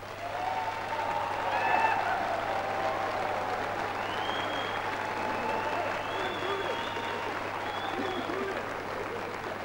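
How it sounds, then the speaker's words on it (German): A studio audience at a 1990 sixtieth-birthday show for Slavko Avsenik applauds him and the Original Oberkrainer with steady, moderately loud clapping throughout, with faint wavering tones above the applause. "Wie war es mit einem Applaus für Slavko und seine Freunde"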